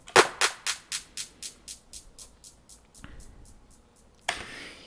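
FL Studio Fruity Delay 3 with high feedback and modulation repeats a sharp percussive hit as a rapid train of echoes that fade steadily, followed by a brief burst of noisier sound near the end.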